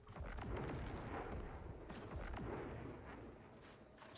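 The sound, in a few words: explosions in the video game Marathon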